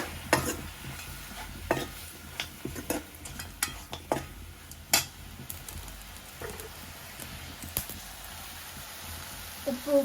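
Spices for a Kilinochchi-style chicken kurma being stirred and mixed in a pan, with a spoon scraping and clinking against the metal in scattered bursts over a low, steady background.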